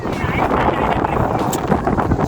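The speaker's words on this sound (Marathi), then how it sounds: "वारा सुटला भाई" Strong wind buffets the microphone in a continuous gusty roar, loud and close, with faint voices underneath.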